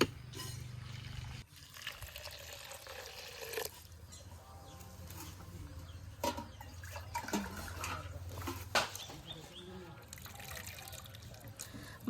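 Aush rice is rinsed by hand in water for a village milk-and-gourd porridge, giving soft sloshing and trickling with intermittent splashes and swirls, close and fairly quiet.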